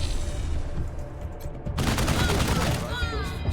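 Suppression gunfire in the video game Wasteland 3 breaks out midway as a dense, loud volley of rapid shots, after a stretch of low rumbling battle ambience.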